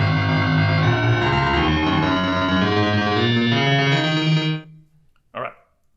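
Sonified data of 20th-century cancer death rates plays as a loud, buzzy, distorted electronic tone with layered harmonics, sustained for several seconds before cutting off abruptly, followed by one short burst.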